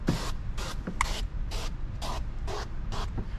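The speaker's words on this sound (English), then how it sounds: "we want to give this another mist now" A spray bottle mists water onto a 2025 Kia Forte window during tint installation, seven quick even hissing bursts in steady rhythm, close and clear.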